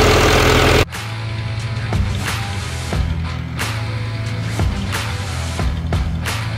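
Tractor engine running steadily up close while towing another tractor stuck in a soft, muddy ditch, with a low continuous rumble and a few knocks and clanks over it, heard alone after a loud burst at the start.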